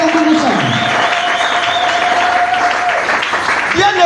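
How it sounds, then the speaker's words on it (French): A church congregation applauds and cheers loudly in a continuous wash of clapping and voices, with a sustained tone running underneath for most of the stretch. "Est-ce que tu peux acclamer très fort?"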